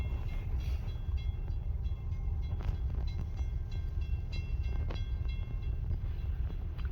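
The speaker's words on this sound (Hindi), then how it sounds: "आ रही है ट्रेन वो देखो, वो देखो, वो ट्रेन आ रही है" A train approaching on a railway line, a steady low rumble and rolling clatter that holds at a constant level with faint metallic clicks, no voices heard.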